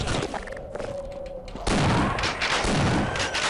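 Shotgun blasts in the Half-Life video game, a couple of loud, close booming shots among chaotic game effects, with a brief steady tone before the blasts.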